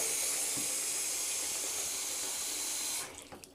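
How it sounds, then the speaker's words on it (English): Hot water runs from a tap into a sink for wet shaving, a steady close hiss and splash of pouring water that stops near the end, leaving a few drips. "or fill up our sink with hot water"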